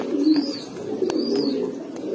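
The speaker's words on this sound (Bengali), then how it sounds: "কবুতরের সাইজ দেখেন শাওন ভাই।" Pigeons including Pankhi, Grizzle and Baghdadi Homa breeds held for sale, cooing in low repeated murmurs close by, steady and alone with no speech.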